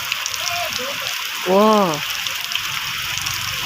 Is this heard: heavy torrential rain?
yes